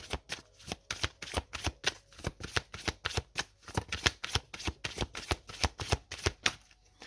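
Oracle or tarot cards are shuffled by hand in a quick series of crisp, close riffling flicks with a steady rhythm and no voice.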